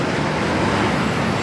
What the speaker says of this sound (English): Oh boy, these cars are coming.